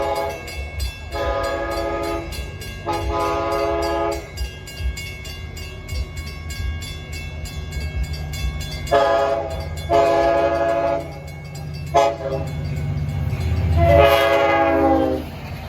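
LIRR Montauk Branch train sounding its horn in several long, loud blasts, with a rail-side rumble underneath and a short extra toot between the main bursts.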